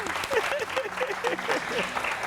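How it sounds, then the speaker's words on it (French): An audience claps in a brisk burst of applause during a lunchtime show, moderately loud with a voice talking over it. "Applaudissements pour elle."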